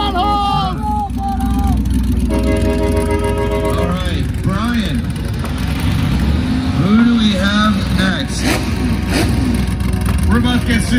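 A car pulls out at a loud Cleetus and Cars event, its engine rumbling under an announcer on a PA and a noisy, cheering crowd.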